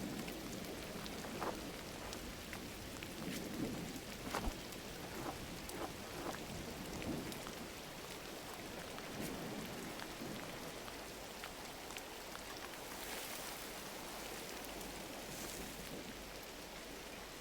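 Steady rain pours down throughout the rainy blue world of the video game Gris, a dense hiss of drops with soft rumbles of thunder, and no voices.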